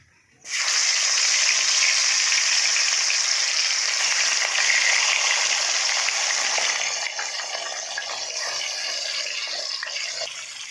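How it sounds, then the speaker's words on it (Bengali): Fish fry in hot oil in a wok, a loud, steady hiss and sizzle that starts suddenly and continues throughout, easing slightly toward the end. "এবার মাছগুলো আমি ভেজে নেবো।"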